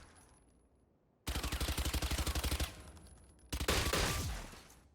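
Fully automatic SMG fire in the video game Valorant: a loud, rapid stream of about a dozen evenly spaced shots, a short pause, then a second burst that trails off.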